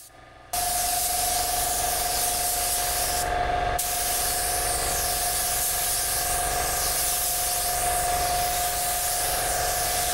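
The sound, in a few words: LVLP spray gun spraying clear coat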